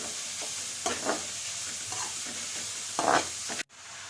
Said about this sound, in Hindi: हम गाजर को डालते जाएंगे और साथ साथ में हम इस तरह से स्टर एंड सौटे करते जाएंगे